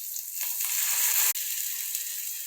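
Cooked black kavuni rice porridge goes into a pan of sautéed tomato with a pinch of turmeric, setting off a loud, steady sizzle that fills the whole moment, with a brief stir-like scrape midway and a sharp break before the frying resumes.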